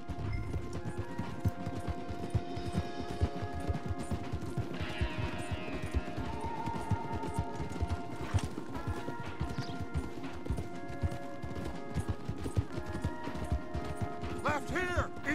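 Horses galloping hard in Red Dead Redemption 2, a dense continuous rumble of hooves mixed with creaking tack, clatter and game music, steady and loud throughout.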